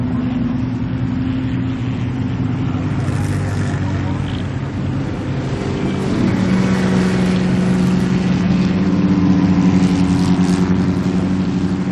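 A 1925 Bugatti T35 vintage race car engine at a vintage racing show, running as a steady, loud, throaty drone with a rising tone about halfway through and faint voices underneath.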